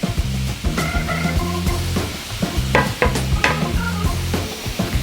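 Pepper, carrot and onion being stirred in a frying pan, a steady sizzle broken by repeated scraping strokes of the spoon in a loose rhythm, close and fairly loud with no talking.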